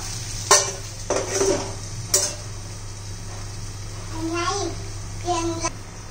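A spoon clinks and scrapes against the pan as a bitter gourd dish with squeezed lemon is stirred, over a low steady hum. A few distinct knocks come first, then softer scraping, with someone speaking in between.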